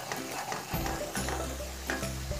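Maida flour roasting in a pan as a spoon stirs it, giving a soft dry sizzle with scraping strokes and a few louder clinks, close and steady with no talking.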